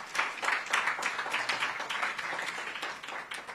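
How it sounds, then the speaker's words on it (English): A room of people at a media engagement gives a round of applause, dense steady clapping that holds throughout at moderate loudness with no talk over it. "let's give a round of applause to the candidate for the responses he has had"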